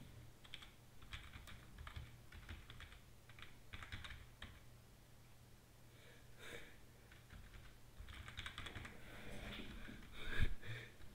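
Someone taps steadily on a German-layout computer keyboard in irregular bursts of quick keystrokes with short pauses, close and quiet against a low background hum, no talking.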